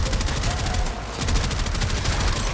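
Rapid automatic gunfire from a video game weapon, a continuous, dense stream of shots, loud and close, running steadily the whole time with almost no talk.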